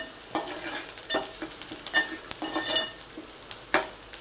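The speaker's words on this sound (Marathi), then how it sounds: "परतायचं याला कांद्याला पहा" Onions being stirred and sautéed in a pan while cooking a dry ridge gourd (dodka) vegetable dish: steady sizzling with repeated scraping strokes of a spoon at an uneven rhythm, close and moderately quiet, with no voices.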